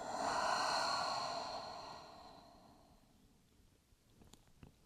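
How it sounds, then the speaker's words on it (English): A slow, deep exhale during yoga breathing, a soft breathy rush that is strongest at first and then gradually fades into quiet. "And exhale everything out."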